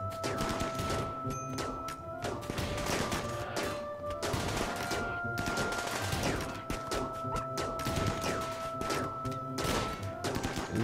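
Rapid, dense shotgun pistol fire during a base defense in the modded colony game RimWorld, with overlapping blasts and impacts crackling continuously alongside tonal in-game effects.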